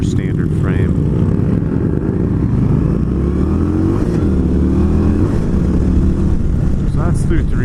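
Indian Scout motorcycle accelerating hard up through three gears, a loud, steady engine roar close by with rising pitch sweeps at each shift and heavy wind noise throughout.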